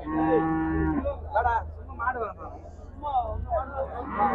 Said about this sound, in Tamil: இது இது சீம மாடுன்னு சொல்லுவாங்க.